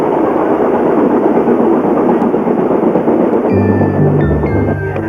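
A train rolls along a scenic railway with a loud, continuous rumble of wheels on track, steady and close, then a few bright tonal squeals and a lower engine drone join in toward the end.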